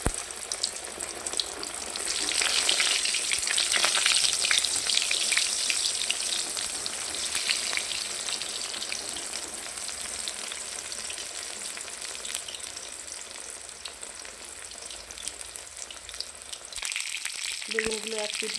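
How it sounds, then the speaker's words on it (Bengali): Eggplants frying one at a time in oil for a mashed eggplant bharta, a dense, steady sizzle that swells early and then holds, close, ending in a few clattering handling sounds near the close. "তো বেগুনগুলো আমি একটা একটা করে ভেজে নেব।"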